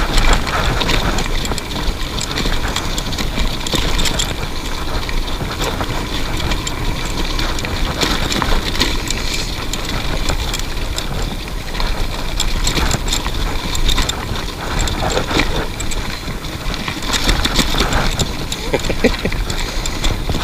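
An electric scooter rides a red-graded forest trail in Cannock Forest, giving a steady broadband rush of wind, tyre rumble and rattle over rough ground for the whole stretch, with occasional voices.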